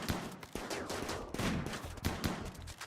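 Rapid gunfire crackles through a RimWorld battle, with repeated sharp shots bursting in irregular clusters and volleys, loud and close throughout with no pauses.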